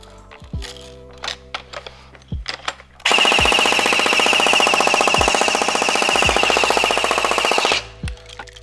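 A BB gun fires as a sustained rapid burst of BBs, a dense rattling stream lasting several seconds. Scattered sharp clicks and taps come before it, and a few isolated thuds follow.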